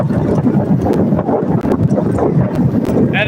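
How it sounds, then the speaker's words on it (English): Wind buffets a microphone outdoors on a windy evening, a loud continuous rumbling roar with gusty swells and brief dips, heard close and alone. "It's a little windy, but we got like that cool air"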